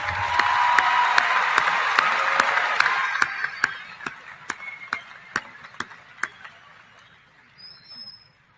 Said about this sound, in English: How about another round of applause for our 2016 bachelor class?